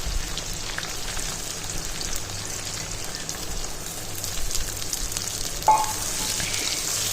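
Sliced onions fry in oil with garlic paste for Bihari chicken, giving a steady, dense hiss like rain on a surface, with a brief clink partway through and no voices.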